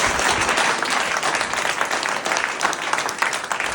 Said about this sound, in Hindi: तालियां एक बार जोरदार